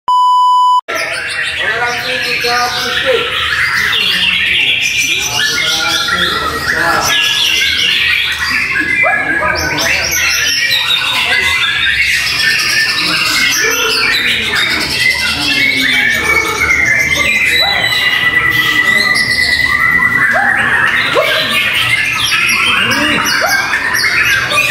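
Dense chorus of white-rumped shamas singing at a bird contest, with loud overlapping whistles, chirps and rapid trills continuing without pause, after an opening electronic beep.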